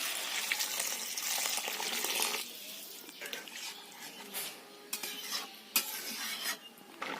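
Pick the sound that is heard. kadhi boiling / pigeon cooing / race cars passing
kadhi boiling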